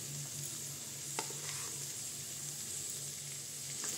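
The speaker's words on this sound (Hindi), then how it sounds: "चलिए इसको अब मसाला डालने के बाद 1 मिनट और फ्राई कर लेते हैं मसाले के साथ भी" Radish, carrot and chili pickle with masala being stirred and fried in a pan: a steady close sizzle with occasional spoon scrapes and taps. No talking.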